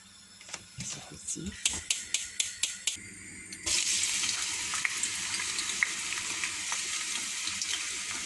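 Onions drop into a hot pan for a Tunisian khobiza sauce; a series of sharp clicks and taps gives way to a sudden, steady loud sizzle of frying that carries on close by, with a voice talking over it.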